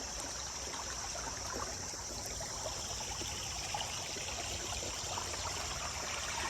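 A small stream flows with a steady, even babble and trickle of water, moderately close and continuous throughout, with no voices or other sounds over it.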